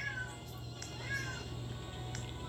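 A pet cat gives a couple of drawn-out meows, moderately near, over a steady low electrical hum and faint background noise indoors.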